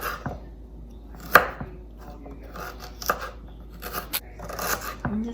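Peeled ginger is sliced with a knife on a cutting board, a series of close, irregular chopping taps and soft scraping strokes over a quiet kitchen background.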